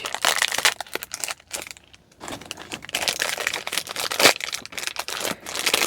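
A plastic bag crinkles and crunches close up as it is pressed and held down, in irregular bursts with a brief pause in the middle.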